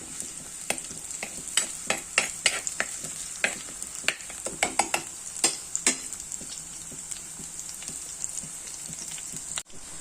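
Shallots and green chilies frying in hot oil with garlic and ginger for a mango fish curry make a steady sizzle, broken by a run of sharp spoon-and-pan knocks and scrapes in the first half.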